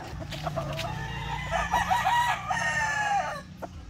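A rooster on a gamecock breeding farm crows nearby, a long drawn-out call with harsh harmonics, against faint farmyard background noise.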